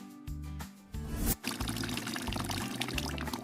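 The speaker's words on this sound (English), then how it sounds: "Fill the bucket with soapy water." Water gushes steadily into a bucket, close and fairly quiet, with a brief splashy burst early on and low musical tones underneath.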